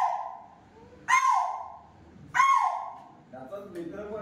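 A voice imitates the alarm call of a spotted deer (chital) to schoolchildren at a nature awareness program near Moharli: two loud, sharp, high-pitched barks about a second apart, followed by fainter sounds.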